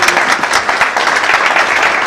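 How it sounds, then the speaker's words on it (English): Loud, close applause from the audience at a social media and entrepreneurship meetup: steady, dense clapping lasting about two seconds with no talking. "So a big round of applause."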